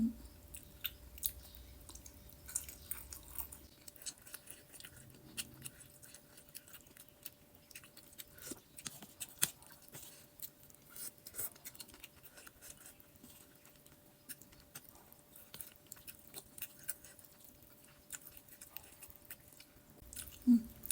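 Meatballs from a noodle soup are chewed softly and close, with faint irregular wet bites and squishes over a quiet room.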